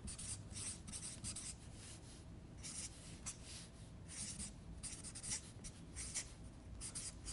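A pen or pencil scratching across paper at close range as words are written out by hand, a steady run of soft rasping strokes and short pauses with no talking.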